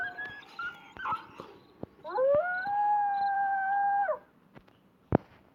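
Wolves in the online game Wolf Online let out a long, rising howl in the middle, preceded by shorter yelping calls and followed by a sharp click, all fairly close and without talk.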